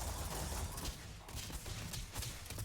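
A plasma rifle fires in Starfield, a dense, continuous burst of rapid gunfire-like shots layered over rumbling game ambience, moderately loud with no voices.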